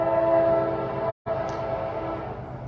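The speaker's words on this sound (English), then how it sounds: "I hate the trains." A passing train sounds its horn in a long, steady, sustained tone heard from a moderate distance, with a brief cut in the middle. The horn carries on over a low rumble of rail traffic.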